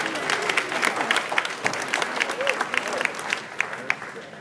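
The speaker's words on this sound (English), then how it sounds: "So quick hand, round of applause for everybody." An audience at a sports, tech, fantasy and gaming meetup gives a brief round of applause: dense, close clapping that stays fairly even for a few seconds, with a voice talking through it.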